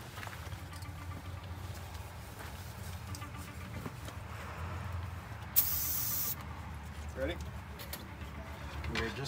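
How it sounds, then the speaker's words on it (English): A short burst of ether aerosol sprayed into the engine of a 1964 GMC cab-over truck hisses for about a second, with people talking and a low engine hum underneath. "I'm going to spray a little ether in there."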